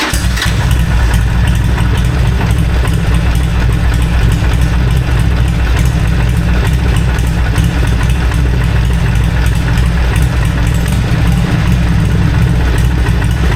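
Harley-Davidson Sportster motorcycle engine idling steadily at close range, a loud, continuous low rumble with a rapid uneven pulse and no speech over it.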